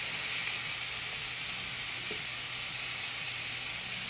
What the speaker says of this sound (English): Turn your meat over. Let's get that side cooked.